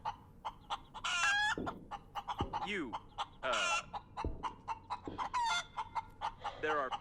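Chicken clucking and crowing bursts from a chicken in the video game Breathedge, repeated several times across the stretch with rhythmic clicking and someone talking between the calls.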